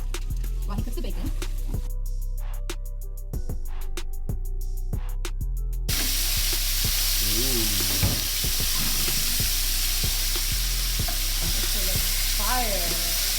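Bacon frying in a pan during a home kitchen session cooking camarones a la criolla, a steady close sizzle and crackle running throughout with stirring clatter and occasional voices over it.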